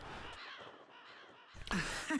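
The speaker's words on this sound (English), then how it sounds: "God's breath, I can't see anything through all these damned birds" Crows cawing in the video game Fire Emblem: Awakening, a few harsh caws rising over a quiet ambient background, loudest near the end.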